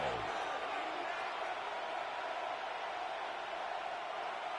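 Steady roar of a football stadium crowd in a video game, building on third down, a continuous broadband wash of cheering with no distinct voices standing out.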